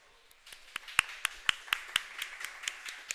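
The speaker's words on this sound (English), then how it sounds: "I hear clap, I do clap." Scattered handclaps at a chess tournament in Paris: about a dozen sharp, separate claps in an uneven rhythm, fairly close but quiet, with no talking.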